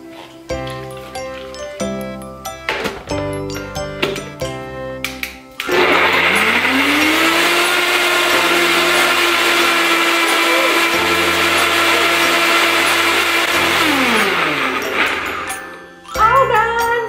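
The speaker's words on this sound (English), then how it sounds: "See, it's just a blender." A small bowl blender purees homemade baby food with added water, a loud steady whir running for about ten seconds with a rising pitch, after brief clinking and handling noises.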